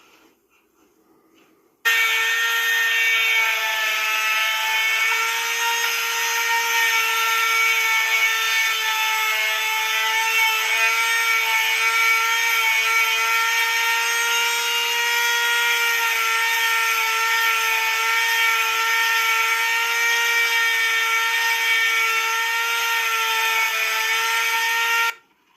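A Dremel rotary tool grinds at a coyote mount, a sustained high-pitched whine that starts abruptly, holds steady and loud for over twenty seconds, then cuts off, with no talking.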